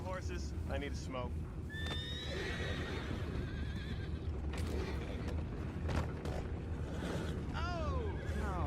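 Horses neigh and whinny in Red Dead Redemption 2, with descending whinny calls rising over a steady bed of hoof clops, creaks and ambient game noise, while people talk throughout.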